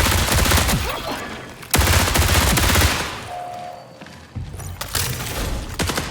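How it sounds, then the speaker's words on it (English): The BRRT SMG from the video game Marathon fires loud 5-round bursts, dense rapid gunfire in two long volleys separated by brief lulls, with a short pause and a faint tone between them. "an SMG that has a 5-round burst"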